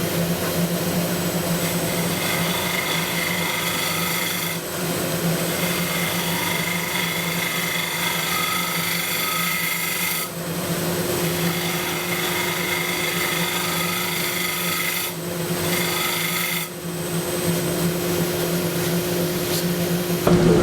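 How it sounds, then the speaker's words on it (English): Shear scraping on a wood lathe with a turning tool, a continuous loud hum of the spinning lathe with a rough scraping layer, broken by a few brief dips where the tool lifts. "I'll do a little bit of shear scraping here just to show what that looks like."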